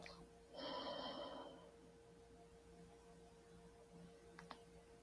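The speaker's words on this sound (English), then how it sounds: "and exhale through the nostrils." A single slow exhale through the nostrils during a breathing exercise, a soft airy rush lasting about a second, followed by quiet room tone and a faint click.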